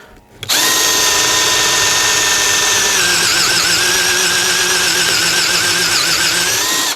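A Vitals Master ARa 1618-2P cordless rotary hammer runs at first speed, a loud steady motor whine starting abruptly and holding for about six seconds before cutting off, no talking.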